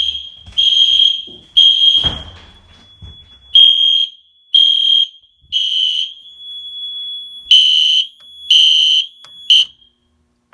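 A fire alarm on a newly installed system in a man cave sounds in repeated loud, shrill bursts of about half a second to a second each, separated by short gaps, with a clatter of handling noise near the start.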